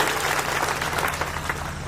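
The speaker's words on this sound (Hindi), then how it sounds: "मैं चाहता हूं एक बार जोरदार ताली बजाएं आज के" An audience applauds a speech at a political rally, a dense, steady wash of many hands clapping together at even loudness for about two seconds with no voice over it.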